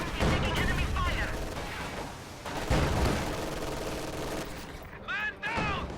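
Enemy gunfire in a World War II strategy video game with tanks and conscripts: dense volleys of rifle and machine-gun shots crackle and thud in bursts, mixed with battle noise and brief shouted voices.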